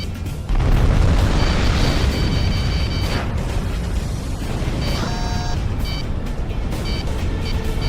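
An enemy tank blows up in the video game Ace Combat 6 on Xbox 360. It is a loud, sustained booming roar with rumbling low end, and a few faint electronic tones sit above it.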